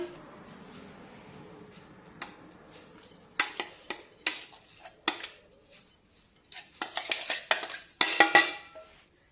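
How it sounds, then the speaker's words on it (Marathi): A spoon scrapes and knocks against a bowl as a sticky sesame, jaggery and peanut mixture is transferred, giving irregular clinks and scrapes that grow busier and louder toward the end. "आता हे मिश्रण या बाउलमध्ये काढून घेऊया"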